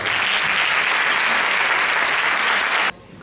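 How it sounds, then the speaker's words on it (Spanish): Audience at a 2017 Christmas concert in Loranca applauds steadily and densely for almost three seconds, then the clapping cuts off abruptly, leaving a faint room tail. "os quiero pedir un fuerte aplauso"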